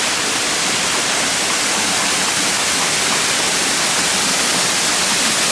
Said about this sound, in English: And there's our waterfall.